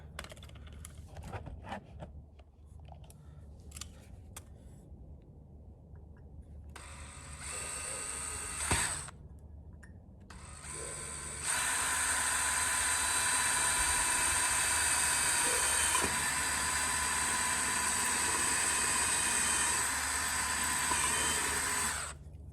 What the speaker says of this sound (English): got all the small holes drilled in the side of the conduit.